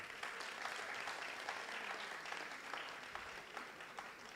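Audience at an AI Africa training launch clapping, a soft, distant patter of many hands that keeps going steadily with a few sharper claps standing out.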